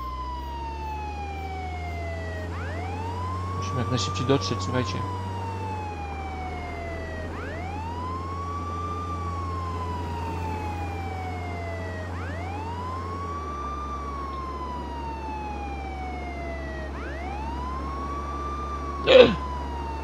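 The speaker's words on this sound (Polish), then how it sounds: "Jedziemy z syreną." Police vehicle siren in the video game Contraband Police, a wailing tone rising and falling in repeated sweeps over a low engine hum, with brief speech early on and a sharp sound near the end.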